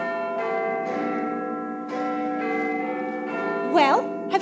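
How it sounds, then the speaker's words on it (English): Church bells ring in a steady, overlapping peal with sustained ringing tones throughout, set within a staged English pantomime scene; a voice briefly breaks in near the end. "I can still only hear bells."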